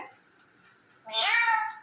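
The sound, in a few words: parrot imitating cat meow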